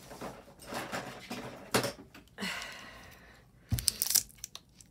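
Scissors cut open the packaging on a jewelry jar from a church thrift store, giving close, irregular crinkling and tearing bursts with a sharper cluster of crunchy snips near the end and no talking.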